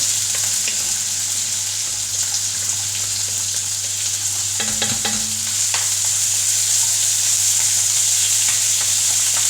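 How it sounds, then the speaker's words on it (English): Loud, continuous sizzling of beef frying in a pan, with brief stirring scrapes partway through and a low steady hum underneath. "So just quick frying."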